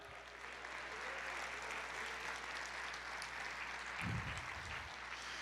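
A church congregation applauds during a Portuguese-language sermon, a steady distant wash of many hands clapping with a low hum beneath and a brief low thump near the end.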